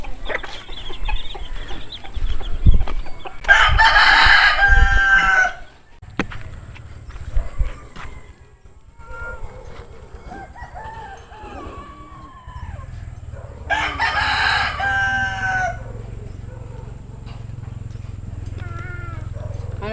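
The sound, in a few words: chickens and roosters crowing and clucking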